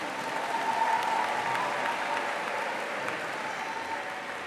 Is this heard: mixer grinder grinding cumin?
no